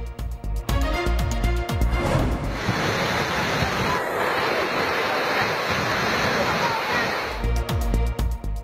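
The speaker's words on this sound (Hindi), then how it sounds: "4 साल बाद पहाड़ी नालों में पानी बहने लगा" Water rushing through hilly mountain streams after heavy rain, a loud, dense, continuous roar of flowing water with a wind-like wash, set between stretches of news music at the start and end.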